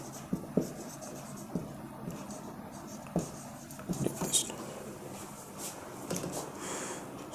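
Pen scratching and tapping on paper during a science lesson on concave lens ray diagrams, soft and close, with brief strokes and taps under faint background noise.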